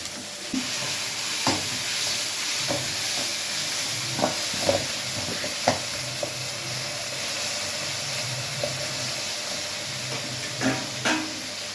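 Chapati noodles with vegetables sizzle softly in a pan under a constant frying hiss, while a utensil stirs and scrapes in scattered clinks and knocks, close and fairly quiet.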